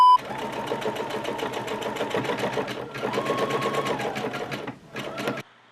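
A sewing machine fitted with a buttonhole foot stitches a buttonhole in a steady, fast mechanical whir of rapid needle strokes, pausing briefly and restarting near the end, close and loud.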